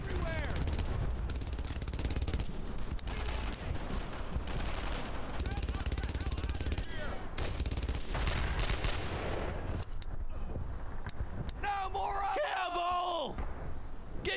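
Gunfire in the World War II shooter Brothers in Arms: Earned in Blood: sustained rattling automatic fire and booming shots, dense and steady, with shouted voices mixed in.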